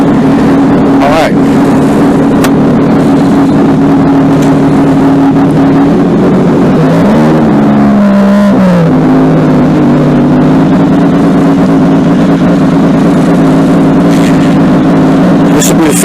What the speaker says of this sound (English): when I turn my bike on, because Lord knows that thing's loud